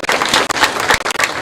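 A close, dense burst of audience applause for a government decision, with many hands clapping rapidly and continuously.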